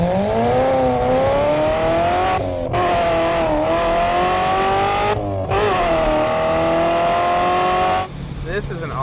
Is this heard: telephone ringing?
no